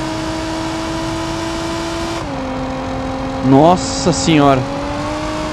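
A turbocharged front-wheel-drive Golf engine in BeamNG.Drive drones steadily, then revs up in rising pitch sweeps, with a brief turbo whine, while a man exclaims over it.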